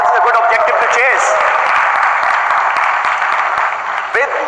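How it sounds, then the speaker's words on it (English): Applause from a large audience at a corporate anniversary event fills the hall, a dense continuous wash of clapping that holds steady before tapering slightly near the end. "you can give yourself a good round of applause"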